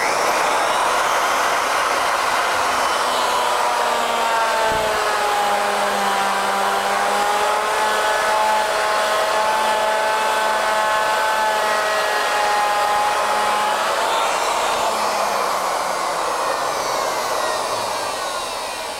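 A Legacy ornamental mill making its first cutting pass: a steady, loud, whining machine drone with shifting tonal hum that continues unbroken and tapers slightly near the end, with no voices.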